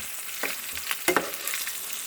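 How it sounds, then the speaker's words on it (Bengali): Fish frying in a pan gives a steady, close sizzle of hot oil with a few sharp pops and crackles breaking through. Nobody speaks. "আর এখানে 3টে ভাজা হচ্ছে।"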